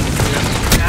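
Loud explosive burst from a grenade going off in a multiplayer video game, a short boom amid a dense wash of gunfire and game noise lasting under a second.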